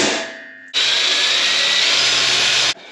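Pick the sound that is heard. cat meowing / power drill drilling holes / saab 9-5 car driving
power drill drilling holes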